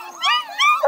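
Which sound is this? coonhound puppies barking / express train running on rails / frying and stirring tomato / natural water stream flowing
coonhound puppies barking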